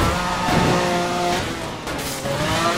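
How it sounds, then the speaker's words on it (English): A car engine roars at high speed during a police pursuit in a video game, a loud continuous drone with shifting pitch and a brief tire squeal, no voices. "units are in high speed pursuit of a single vehicle"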